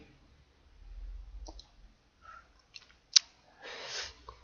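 A computer mouse clicks a few times, sharp isolated taps close by in a quiet room, one louder click standing out among faint rustles.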